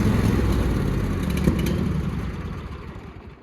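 A John Deere lawn mower engine runs with the choke on, a steady rough rumble close by that slowly fades and drops off toward the end.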